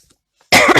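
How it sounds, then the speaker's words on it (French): One sharp, loud cough sounds at close range from someone with lingering hay fever, after a brief quiet pause. "je suis en rhume des foins qui traîne, ça tousse encore"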